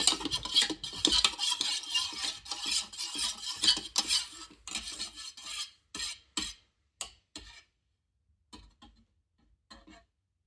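A utensil stirs melted candle wax in a pot, scraping and clinking steadily and close, then slowing into sparse, separate taps and scrapes with brief silences between.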